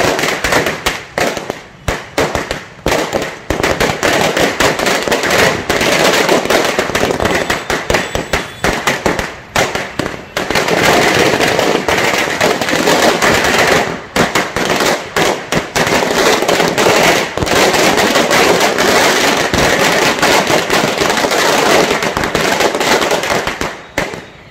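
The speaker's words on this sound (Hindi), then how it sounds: "कपड़ा व्यापारियों ने खुशियां मनाते हुए पटाखे चलाए" Cloth traders set off firecrackers in celebration, producing a dense, continuous barrage of sharp cracking bangs and pops that stays loud throughout with only brief lulls.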